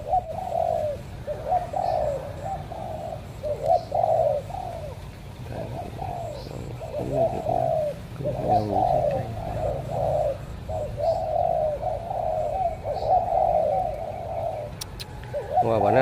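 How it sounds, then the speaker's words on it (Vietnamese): Doves coo repeatedly in rhythmic phrases throughout, moderately close, with faint outdoor background and no talk. "nó phát nó đổ gù cái mình mới biết, nghe tiếng mới biết là đó là con mồi của mình"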